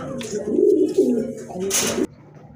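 Pigeons at a bird sale coo in low throaty bursts close by, several rolling calls in a row, mixed with a brief rustle of handling.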